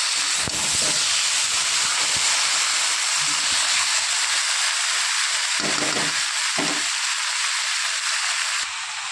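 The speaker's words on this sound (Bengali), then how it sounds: "মাছগুলো একটু ভাজা ভাজা করে তারপর আমি জল দিয়ে দেবো" Large amudi fish frying in spiced oil in a pan, giving a loud continuous hiss and sizzle with a few scraping knocks from stirring.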